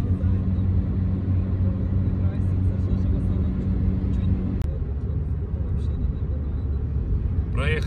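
A car drives along a road with a steady low rumble of engine and tyres from inside the cabin, a constant drone with faint clicks.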